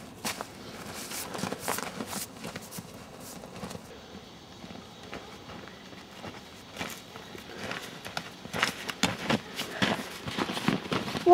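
Footsteps stomping out a campfire in the Ohio outdoors, heavy irregular thuds and crunches of boots on embers and dirt, close and moderately loud, with a quieter pause in the middle before a busier burst of stamping.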